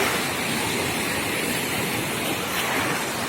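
Strong Atlantic ocean waves surge at the seaside, a loud, continuous broadband roar of churning surf with steady wash and no distinct breaks, heard alone without voices.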